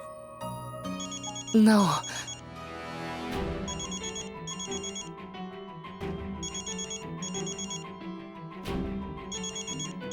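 A telephone rings with a repeating electronic tone in a family scene from a French-dubbed TV drama, heard over dialogue and background music.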